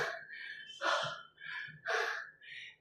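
A person pants heavily after climbing 250 stairs, taking loud, rhythmic breaths close to the mic. Each inhale and exhale is distinct and audible, with no talk.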